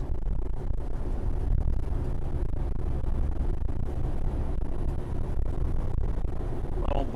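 A 2025 Renegade Classic 45 CME motorhome on a Freightliner Cascadia chassis driving down the road, a loud continuous low engine and road rumble with steady wind noise and no break in the sound.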